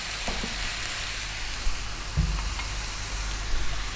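Skinless, bone-in chicken pieces, about 1 kg, fry in a hot pan for a South Indian stew, giving a steady low sizzle and hiss with a few soft clatters as the pieces settle.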